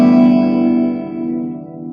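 A single loud downward strum across all strings of an acoustic guitar rings out close and clear, the chord sustaining and slowly decaying with no other sounds.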